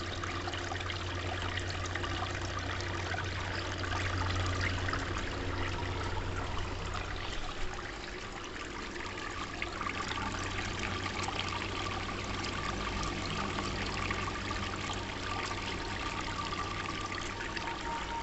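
Water trickling steadily inside a homemade 20-liter old-bucket air cooler, a continuous close dribbling wash running alongside a constant low fan hum, with no voices.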